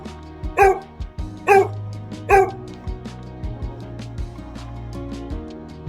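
A dog gives three sharp, evenly spaced barks near the start, loud and close, over a steady musical backing that continues after the barking stops.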